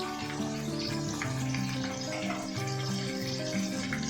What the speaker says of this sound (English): Add this all ginger, garlic, onion paste and cook for another 1 to 2 minutes.